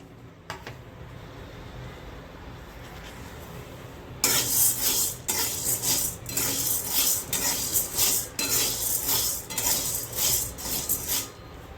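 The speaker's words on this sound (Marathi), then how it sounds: "आता इथे 1 वाटी साबुदाणा आहे, हा आता आपण भाजून घेऊया।" Sago pearls are dry-roasted in a hot wok, first quiet, then a spatula starts scraping and stirring them in a steady rhythmic rustle, close and fairly loud with no talking.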